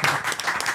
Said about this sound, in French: Applaudissez, applaudissez avant que ça commence.